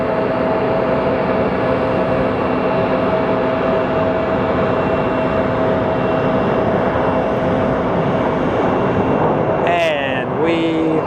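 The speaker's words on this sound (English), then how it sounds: "And we have a landing" Jet airliner landing at Phoenix Sky Harbor Airport, a loud continuous engine roar with steady droning tones throughout, shifting and winding down near the end as thrust changes after touchdown.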